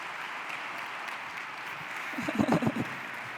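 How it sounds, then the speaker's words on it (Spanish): A crowd applauding steadily at a business conference, a dense wash of clapping heard from within the audience, with a few nearby voices briefly breaking through near the end. "Con todos vosotros, un fuerte aplauso, Marc Vidal."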